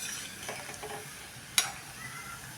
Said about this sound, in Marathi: अशा सतत हलवून आपण ह्या तळून काढूया.